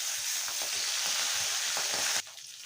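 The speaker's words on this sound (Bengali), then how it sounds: "আমি অন্য পিঠটা ভেজে নেব।" Tengra fish sizzling in hot oil as they are turned to fry the other side, with a dense continuous crackle and a few soft clinks from stirring before the sizzle drops off abruptly near the end.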